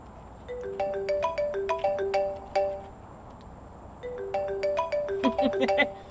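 A phone ringtone plays a bright repeating melodic chime in two bursts separated by a short pause, clear and fairly close.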